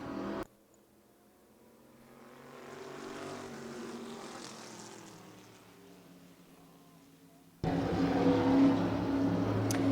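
Short-track stock cars racing side by side on an oval in a late-race battle, engine drone rising and fading as the pack passes, then a loud close roar of engines near the end.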